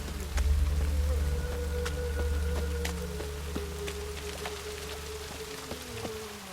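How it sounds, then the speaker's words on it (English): Conjured rain in The Witcher 3: Wild Hunt, a steady patter of scattered droplets over a low hum and faint tonal whines, continuing evenly at moderate level without speech. "Witches have conjured rain."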